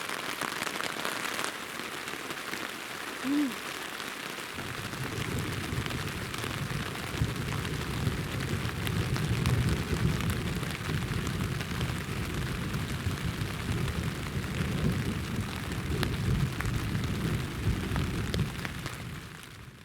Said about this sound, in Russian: сейчас началась гроза сильнейшая. Поливает сильно, и гром гремит с молниями